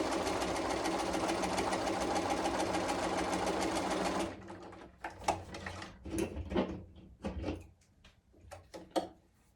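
A sewing machine stitches a log cabin quilt block in a steady, fast whirring run that stops partway through, followed by clicks and handling sounds of fabric and parts.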